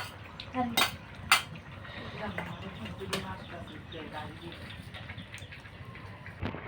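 A metal spatula clanks and scrapes inside a cooking pot of tilapia with lentils, giving a few sharp knocks followed by softer scraping, with voices in the background.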